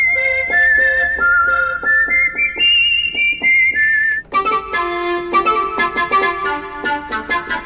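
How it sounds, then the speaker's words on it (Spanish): A whistle patch on a Roland keyboard plays a bright melodic line over a huayno backing rhythm, then shifts into a fuller, denser accompaniment with sharp rhythmic hits, loud and close. "Silbido."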